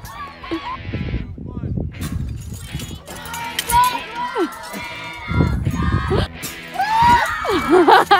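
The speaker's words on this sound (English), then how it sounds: "There's the scream." A crowd of people screams in loud, excited bursts, rising and falling over several seconds with overlapping voices and shouts, amid a noisy, busy scene.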